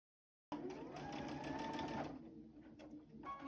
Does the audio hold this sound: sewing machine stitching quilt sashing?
yes